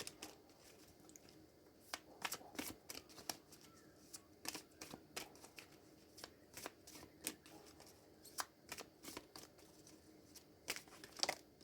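Tarot cards being shuffled and drawn nearby, a quiet run of crisp riffling flicks and snaps spread unevenly through the stretch, with no talk.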